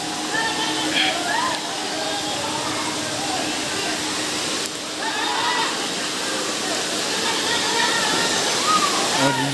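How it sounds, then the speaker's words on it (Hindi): Bhadwana waterfall in Gwalior, India, pours in a steady, loud broadband rush of falling water that fills the whole clip, with faint voices and crowd chatter mixed in at a distance. "और ये देखिए ये है यहाँ का वाटरफॉल झरना।"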